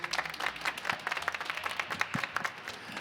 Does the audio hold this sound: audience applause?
yes